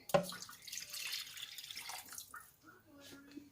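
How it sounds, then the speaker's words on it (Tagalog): Water is poured into a pot of pork bones for sinigang, a brief splashing gush near the start that settles into a softer running pour, close, with a voice speaking over parts of it. "Lagyan na natin ng tubig."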